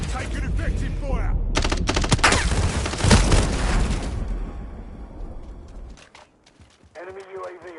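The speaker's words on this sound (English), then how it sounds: "I'm taking effective fire!" Call of Duty Modern Warfare gunfire: dense bursts of rapid shots crackle close and loud for several seconds, then thin out to sporadic cracks as voices talk over the combat noise.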